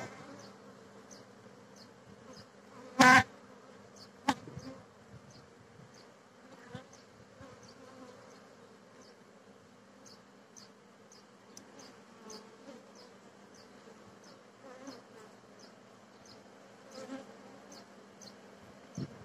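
Honey bees hum softly around an opened multi-storey hive during a check of queen cells, a low continuous drone with individual insects buzzing past up close, a sharp knock near the start and a few faint clicks.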